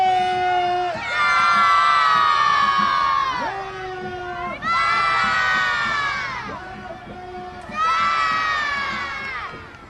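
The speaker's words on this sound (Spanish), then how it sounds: "Vamos a gritar fuerte." A big crowd of children and adults at the Three Kings parade in Pamplona shouts loudly in three long, swelling bursts of massed yelling, with a single voice calling out briefly before each one.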